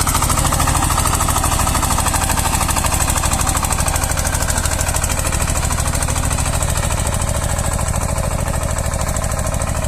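A tractor engine hammers steadily with a rapid rhythmic knocking, loud and close, as a rotary tiller churns white mustard into the soil without pause.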